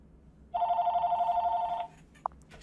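A telephone rings once, a loud clear electronic trill lasting just over a second after a quiet start, followed by a brief click and faint rustling.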